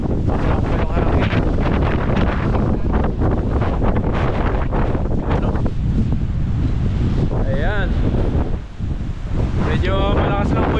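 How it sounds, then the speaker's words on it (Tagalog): Strong wind buffets the microphone in a steady, loud roar, with voices and brief whistling tones faintly audible underneath. "Yung hangin."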